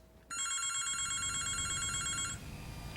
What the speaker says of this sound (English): You just know that the phone is ringing for a bad reason.